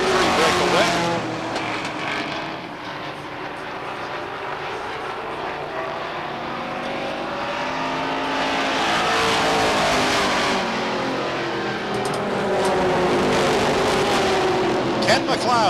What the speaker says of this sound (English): 2 Pontiacs show the way. Then comes the Oldsmobile of Chris Rule filling the inside groove.